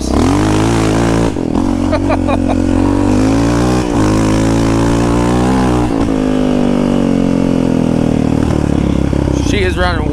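A Yamaha Raptor 700 ATV on wet grass with stock tires, engine revving hard and loud in repeated surges with quick throttle drops as the tires break loose, close up.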